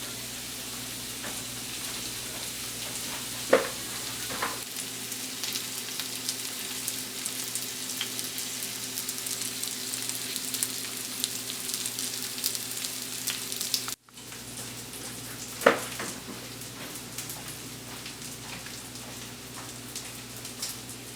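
Steak frying in a hot pan, a steady dense sizzle and crackle with a few sharper pops, continuous and fairly close, with a brief break midway and no talking.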